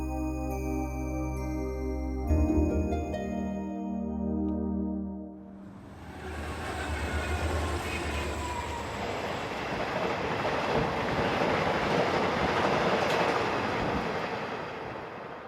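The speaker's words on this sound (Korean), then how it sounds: "그중 전동역은 모든 열차가 그냥 통과하는 신호장 역할을 하는 곳입니다" A train runs through Jeondong station, a signal stop in Yeongi County where trains pass without stopping. Tonal rumbling and a horn-like blare give way to a long, loud roar of wheels and rattling cars.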